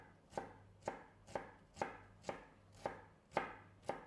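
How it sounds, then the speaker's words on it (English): A knife chops ginger into small slices on a cutting board, eight evenly spaced crisp knocks about half a second apart, close and clear with quiet between strokes. "So we're gonna start with ginger. So just chop it into small slices."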